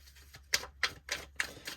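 Tarot cards being shuffled, five crisp riffling bursts in quick irregular succession, close and fairly quiet with no talking.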